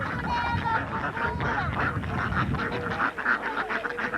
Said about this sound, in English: guess who's feeding the ducks?